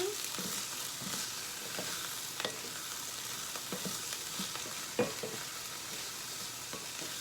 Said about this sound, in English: Listen to my corn popping.